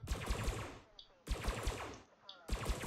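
Ship weapon with jitter fires in Elite Dangerous, coming in three rapid bursts of repeated shots separated by short pauses, fairly faint, with a rattling, machine-gun-like cadence.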